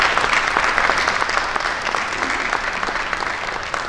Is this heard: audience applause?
yes